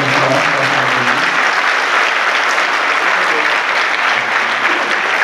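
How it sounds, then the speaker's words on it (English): A graduation audience claps steadily and loudly, a dense, even wash of applause from a large crowd that holds for several seconds without a break. "Please give a round of applause for our families."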